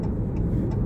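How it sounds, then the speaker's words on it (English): A truck rolls past close by on the road, a loud low rumbling drone holding steady for under a second, with no speech over it. "Hello, truck. I'm right here."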